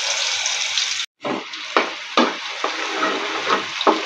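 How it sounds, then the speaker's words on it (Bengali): Onion and garlic paste dropped into hot oil, with a loud hiss that cuts out briefly before the paste goes in. A steady sizzle follows, broken by several stirring strokes, all close. "পেঁয়াজ রসুনের পেস্ট দিয়ে দিচ্ছি।"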